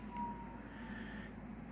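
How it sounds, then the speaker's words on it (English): Faint police sirens wailing somewhere outside in California, a thin, distant rising and falling tone under low background hum. "love this police sirens going around"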